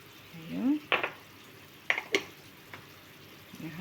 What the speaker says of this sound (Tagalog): Haluin na ho natin.